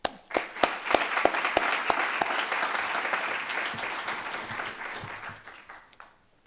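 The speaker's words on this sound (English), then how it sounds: "And now let me have one more round of applause for our staff and for our dedicated alumni." Applause from a graduation ceremony crowd honouring staff and alumni at Georgia State University's Robinson College of Business, dense and sustained, fading toward the end, with a voice speaking over it as it trails off.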